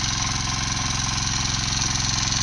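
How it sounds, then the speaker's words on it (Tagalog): A hand tractor engine runs steadily on a farm field, a loud, close, continuous throbbing chug with an even rapid pulse and no voices. "Tapos pinapadaanan natin ng traktora."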